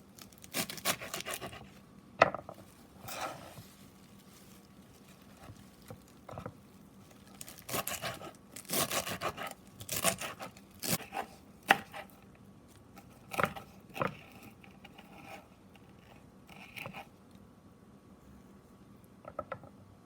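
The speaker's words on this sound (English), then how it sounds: "Then I will dice it" A knife dices a vegetable stem on a cutting board in irregular bursts of sharp taps and thuds, with quiet pauses between clusters of cuts.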